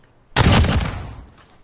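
A single loud burst of gunfire in a multiplayer shooter video game cracks out sharply and then decays over about a second.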